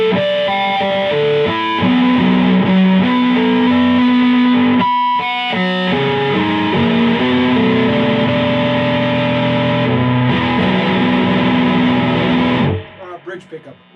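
An ESP LTD EC-258 eight-string electric guitar plays ringing harmonics through a Fender Hot Rod Deluxe amp with flat EQ, light reverb and full presence, sustained overlapping tones loud and near before cutting off at the end.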